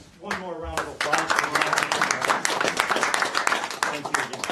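Audience at a council meeting breaks into a round of applause, dense sustained clapping from a room full of people that swells after a brief pause and holds loud throughout.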